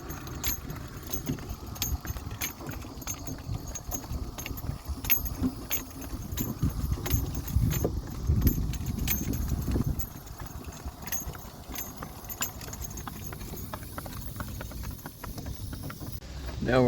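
A horse walks on a gravel road pulling a buggy, its hooves clip-clopping in a steady rhythm close by, with harness jingling and light road noise throughout.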